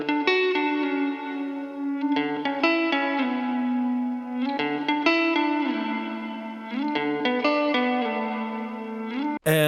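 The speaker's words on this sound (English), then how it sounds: "I wrote the first guitar lead that you hear in the song." A sustained pop punk electric guitar lead soaked in effects, notes sliding and bending slowly with heavy reverb and echo, playing alone and fairly loud.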